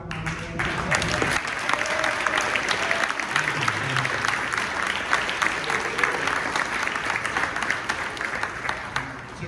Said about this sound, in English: Can we go ahead and give a round of applause to our volunteers?